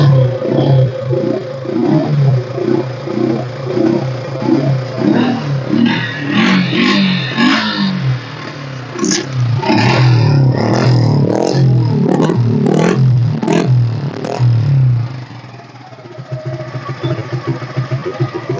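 A Suzuki Gixxer motorcycle in good condition with a new battery runs close by, its engine blipped in a rhythmic series of revs before settling into a sustained loud roar that drops off near the end.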